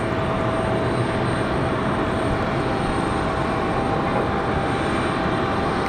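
An Icelandair jet airliner from Reykjavik touches down at Raleigh-Durham International Airport at night, making a steady, moderately loud jet roar with a faint high whine throughout, and no voices.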